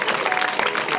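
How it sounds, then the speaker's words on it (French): Audience applause for honorees at a school event in Miramas, a dense, steady wash of clapping lasting about a second at moderate level. "Merci d'applaudir Anne-Laure Ferrer"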